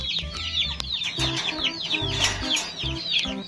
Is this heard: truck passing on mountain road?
no